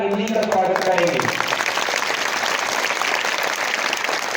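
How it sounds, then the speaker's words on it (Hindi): A school audience at a Hindi Diwas celebration claps loudly and steadily, dense applause filling the hall after a brief voice at the start. "आप सभी हिंदी की गरिमा को बढ़ाने के लिए एक बार जोर से हमारे ताली बजाकर हिंदी का स्वागत करेंगे।"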